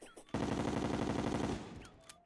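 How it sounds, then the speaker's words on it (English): In Terraria, a gun firing explosive bullets lets out a rapid, loud burst of automatic fire lasting just over a second, then trails off into faint game sounds. "Fires explosive bullets."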